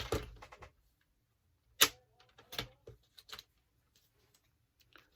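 Scraps of cardstock are cut in a few sharp, separate snips spaced across a quiet stretch. Each cut is crisp and close.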